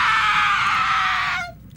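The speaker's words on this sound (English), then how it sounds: "screaming." A ghostly apparition's piercing scream in a cemetery, loud and sustained at high pitch for over a second before cutting off abruptly, heard alone with no talk.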